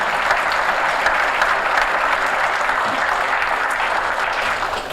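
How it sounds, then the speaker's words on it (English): An audience at a community economic development breakfast gives sustained, dense applause that holds steady for several seconds before easing slightly at the end. "Let's give them a round of applause."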